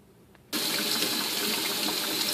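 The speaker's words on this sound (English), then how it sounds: "Next we're just going to run it under some cold water." A roasted pepper is rinsed under a cold kitchen tap, the faucet suddenly opening into a steady, loud, hissing rush of running water that continues without a break.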